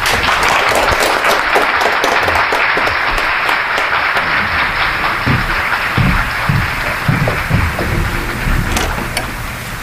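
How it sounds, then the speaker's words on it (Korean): Sustained loud audience applause at a Korean patriotic groups' federation press conference as its president is welcomed to deliver a statement, dense steady clapping throughout with no speech over it. "박수로 모시겠습니다."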